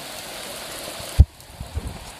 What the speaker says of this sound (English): It's not rained for 6 weeks properly, at least, and it's England, so England always rains, but here it is.